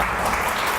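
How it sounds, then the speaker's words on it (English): An audience bursts into applause, a brief dense wash of clapping hands heard on its own. "Give yourself a round of applause for that."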